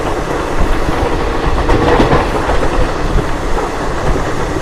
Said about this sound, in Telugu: తిరుపతి గుంటూరు ఎక్స్ప్రెస్.